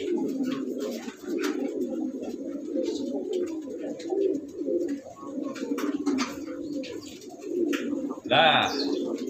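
A grey-red Kanaka linebreed pigeon coos in repeated low, throaty phrases at close range, with a short burst of higher chirps and a sharp noise near the end.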